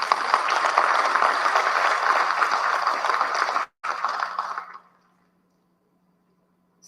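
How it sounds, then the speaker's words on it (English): Audience applause fills a hall at a live results announcement for the 2025 NGSA, a dense steady clatter of many hands that breaks off briefly, resumes, then dies away into silence. "I think we should give them a round of applause."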